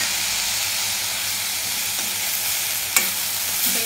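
Vegetables with chopped coriander sautéing in a pan for vegetable kuzhi paniyaram, a steady even hiss of frying, close, with a single clink of utensil on metal near the end and no talk.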